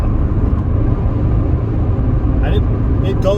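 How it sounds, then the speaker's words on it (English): A Rover 416 cruises along a motorway at 70 mph, its steady engine drone and road rumble filling the cabin continuously, with a voice talking over the noise. "Here we are on the motorway doing 70 miles per hour"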